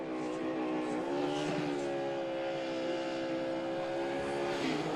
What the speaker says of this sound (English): He does some nice burnouts